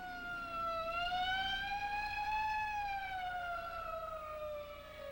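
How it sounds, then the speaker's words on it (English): A 1950s police car siren wails in long, rising and falling sweeps. It is steady and moderately loud, with no voices. "Hey, a police car."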